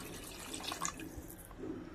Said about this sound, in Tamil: நமக்கு தேவையான அளவு தண்ணி ஊற்றிக்கலாங்க.